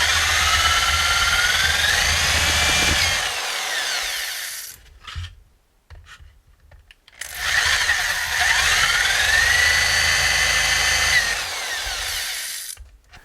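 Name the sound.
power drill with 3/8 bit drilling holes in a can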